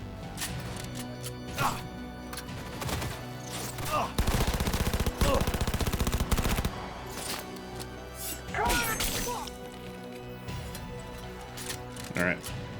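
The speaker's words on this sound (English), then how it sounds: "Just me walking around with a 20mm sniper rifle, firing it from the shoulder, as you do." Repeated heavy shots from a 20mm sniper rifle fired from the shoulder in a combat video game, loud booming reports in a dense cluster around the middle, with game voices and ambient battle noise throughout.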